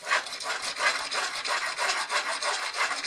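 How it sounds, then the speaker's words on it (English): A hand rasp files purple primer off wood on a chicken coop composter build, with steady rhythmic back-and-forth scraping strokes, close and alone without talk. "I've got this rasp here."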